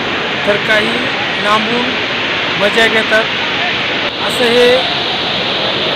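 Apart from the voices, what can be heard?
Vasundhara waterfall with crowd of tourists bathing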